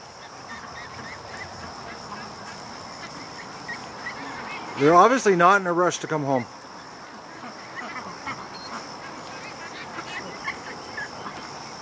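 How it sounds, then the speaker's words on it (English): A small flock of ducks at a lake gives a brief cluster of loud, nasal quacks midway, over a steady hum of distant traffic, with someone speaking before and after. "You can hear the little quacking."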